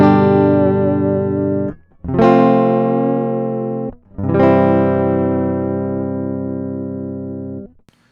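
SBS MS 260 electric guitar on the bridge pickup, played direct, ringing out three long sustained chords one after another, each struck loudly and decaying slowly, with no talking.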